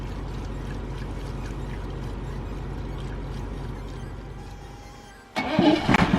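A Dennis fire engine's old diesel engine, run on fresh fuel with cleaner added, cranks and catches after a long steady low drone, bursting into a loud rough idle near the end.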